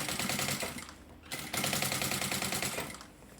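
A sewing machine stitches the lining of a cosmetic bag, a fast, loud, close mechanical rattle running steadily, with one brief pause partway through before resuming, no voices.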